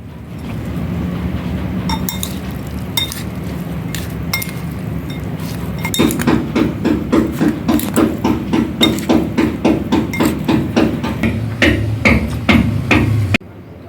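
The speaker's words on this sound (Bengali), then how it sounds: "এবারে আমি ভালো করে মিক্স করে নেব" Guava pieces tossed with kasundi mustard sauce, chili flakes and spices in a bowl, giving steady rhythmic clinks and knocks of a spoon against the bowl that grow denser and more regular partway through, with no talking.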